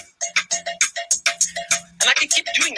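Two interlocking streams of sharp clicks and pulses repeat steadily, a crisp ticking pattern layered over a low hum, playing a four-against-three polyrhythm.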